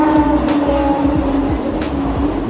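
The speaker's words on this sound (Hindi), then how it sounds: "मुंबई में रात का मजा लेने के लिए हम बैठ गए लोकल ट्रेन में।" A Mumbai local train runs steadily with a continuous rumbling roar, rhythmic wheel clatter over rail joints and a sustained hum, heard close from inside.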